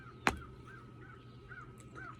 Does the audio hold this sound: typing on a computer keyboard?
no